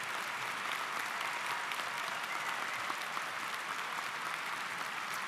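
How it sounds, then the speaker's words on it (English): Audience at a high school commencement ceremony claps in loud, sustained applause for the full stretch, with a dense, even patter of many hands and no speech. "please give them a warm round of applause"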